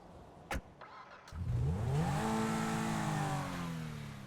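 A car engine starts in the GTA 5 video game: a short starter click, then the engine catches with a rising roar and settles into a steady, loud, fairly close idle, with no voices.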